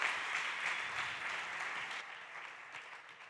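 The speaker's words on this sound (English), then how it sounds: "One more time, a round of applause for Lucas Pese from Tehran" Applause fills a hall at a startup pitching competition, a thick, steady round of clapping that slowly fades over about three seconds.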